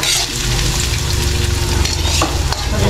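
Garlic and onion frying in hot oil in a home kitchen, a steady close sizzle with crackling and occasional stirring scrapes, continuous and fairly loud with no voices.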